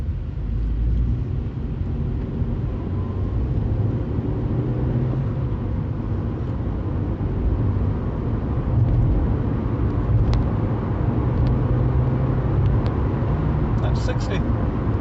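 Vauxhall Corsa E car accelerating up to 60 mph, a steady engine and road drone heard from inside the cabin that holds constant and fairly loud throughout, with a few faint clicks near the end.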